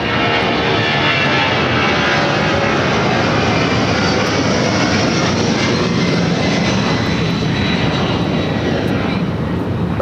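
A Boeing 757 sports charter jet takes off at LAX, its engines roaring loudly and steadily throughout with a broad, constant rumble and no pauses.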